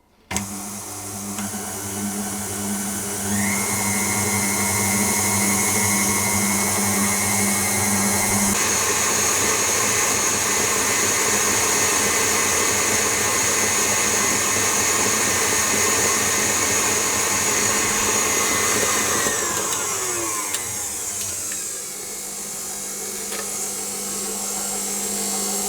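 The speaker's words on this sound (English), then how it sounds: "I'm going to beat that until it's pale and fluffy and has doubled in size" An electric mixer beats sugar for raspberry and cream cheese brownies with a loud, steady whirring drone that runs unbroken for the whole stretch, its pitch shifting slightly near the end.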